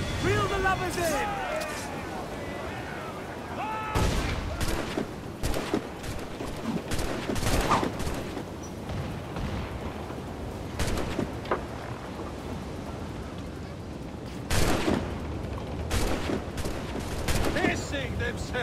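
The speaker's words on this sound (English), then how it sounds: "Cannon ready! Fire!" Ship cannons boom repeatedly during a naval battle in the pirate game Assassin's Creed IV: Black Flag, heavy broadband blasts in irregular bursts, mixed with crew shouting and a roaring sea-battle din.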